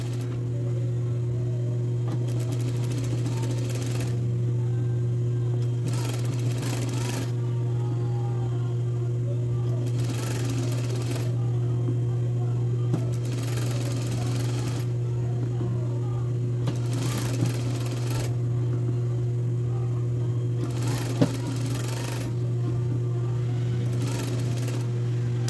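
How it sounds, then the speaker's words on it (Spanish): A sewing machine runs steadily while stitching a thin seam on a woman's blouse, with a constant motor hum and short bursts of faster stitching repeating throughout. A voice talks over the machine. "Doblo y trato de coser aproximadamente sobre la costura que pasé antes y lo más delgado que pueda."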